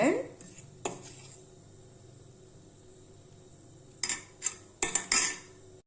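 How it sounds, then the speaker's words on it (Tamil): Sweet ragi kolukattai ingredients mixed in a bowl, with a metal clink early on, a long quiet stretch, then a few sharp clattering knocks of a utensil against the bowl near the end. "இது எல்லாம் ஒரு தடவை நல்லா கலக்கி விட்டுக்கலாங்க"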